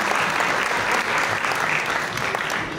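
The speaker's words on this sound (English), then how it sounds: "Please give Kat a big round of applause." An audience at the 2024 CalFresh Forum gives a steady round of applause, dense clapping that holds evenly for a few seconds with a faint crowd murmur beneath it.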